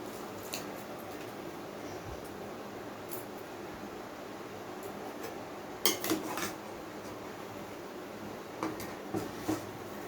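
Washed rice is stirred into boiling milk in a pot, with faint metal spoon clinks and scrapes against the pot, a few sharper knocks standing out over a low steady background.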